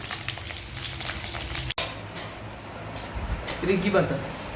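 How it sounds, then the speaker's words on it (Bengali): Jute leaves fry in a pan with a steady soft sizzle and crackle, interrupted by a sharp clunk partway through and some stirring scrapes near the end, with faint background sounds. "পাট শাক ভাজা"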